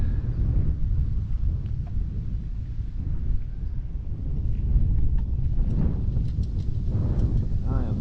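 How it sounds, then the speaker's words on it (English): Wind gusting across a microphone on a fishing pier, a low continuous rumble with surging buffets, while voices talk faintly in the later part. "Man, it's windy."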